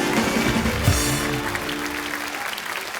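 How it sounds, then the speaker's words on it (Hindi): Studio audience at a comedy talk show bursting into loud applause, dense clapping with a brief voice and musical sting, tapering off after a few seconds. "तो जोरदार तालियां।"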